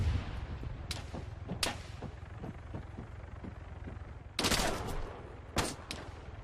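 Gunfire from a friendly player in a video game, with bursts of loud shots spread across the clip, including isolated cracks early on and two heavier, sustained volleys near the end over a constant low rumble.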